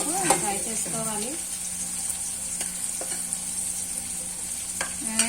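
Onions fry in a pan with a quiet, steady sizzle, broken by a few scraping stirs and light knocks of a utensil, while a voice chirps faintly in the background.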